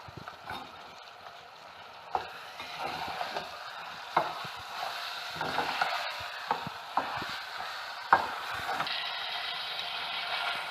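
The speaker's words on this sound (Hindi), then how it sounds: "टमाटर हमने इसमें ऐड कर दिए और भून रहे हैं कीमे के साथ टमाटर को" Tomatoes sautéing with minced meat in a pan, a faint low sizzle under repeated spatula scrapes and clicks at an uneven pace, fairly close and with no talk.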